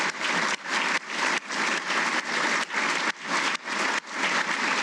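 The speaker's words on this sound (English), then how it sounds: "Ladies and gentlemen, one more round of applause for these Hall of Famers." A crowd at a military agency Hall of Fame induction gives sustained applause for the inductees, a thick, continuous roar of many hands pulsing in waves throughout.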